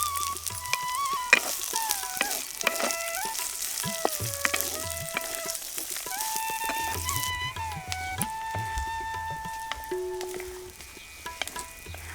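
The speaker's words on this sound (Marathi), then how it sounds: "आता कापलेला कांदा त्याच्यात टाकून घ्यायचा त्याच्यात परतून द्यायचा" Chopped onion sizzles and fries in a pan with green chillies while making soybean bhurji, a continuous crackling hiss punctuated by stirring scrapes, with bright tonal music playing over it.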